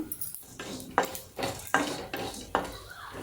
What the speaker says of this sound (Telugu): ఒక పావు స్పూను ధనియాలు ఒక పావు స్పూను జీలకర్ర వేసుకున్నాము దీన్ని కాస్త వేయించుకుందామండి కలర్ చేంజ్ అయ్యేంత వరకు